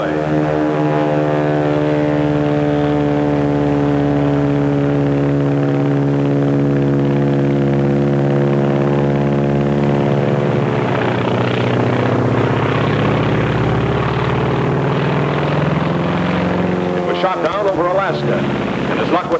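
A Japanese Zero fighter plane's propeller engine drones loud and steady with a strong harmonic hum, its pitch sliding as it passes, while a voice speaks near the end.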